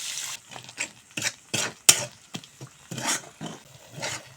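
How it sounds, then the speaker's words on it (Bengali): Spice masala with turmeric, chili powder, salt and a little water being fried and stirred in a pan for soybean korma, with intermittent scraping strokes and bursts of sizzle. "এখন অল্প জল দিয়ে আবারও মশলা ভালো করে কষিয়ে নেব"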